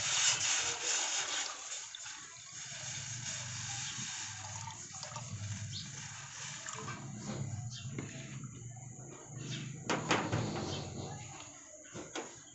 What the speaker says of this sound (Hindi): सबसे पहले हम एक बर्तन में पानी डालेंगे।